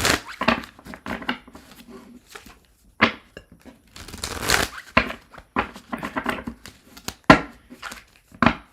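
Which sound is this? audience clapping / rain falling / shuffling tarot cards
shuffling tarot cards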